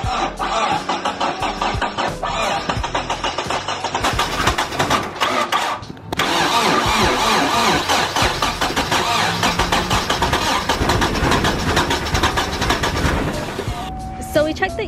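Car engine being cranked to check for spark after sitting two years, a loud continuous whirring and churning up close that pauses briefly around the middle, then cranks again, with voices talking.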